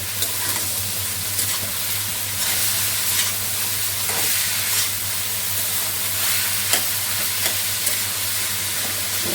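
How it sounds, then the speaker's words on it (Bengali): Vegetables and lentils sizzle and hiss in a small pan while being stirred, a constant close frying sound with periodic scrapes and clinks of the spoon, steady throughout with a low hum beneath. "এর সঙ্গে ডালটা একটু মিশিয়ে দিলাম। আর এইদিকে সবজিটা দেখেন কষানো হচ্ছে।"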